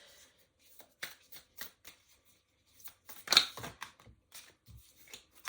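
Tarot cards are shuffled in a series of short, crisp riffling bursts, close but fairly quiet, with small gaps between them.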